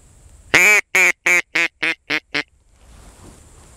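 Seven loud, close quacks from ducks in a steady, evenly spaced run, followed by quiet outdoor background during a duck hunt with decoys and a duck call.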